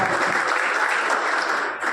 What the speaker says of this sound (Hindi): नीलेश गौर का जोरदार तालियों की गड़गड़ाहट से स्वागत है।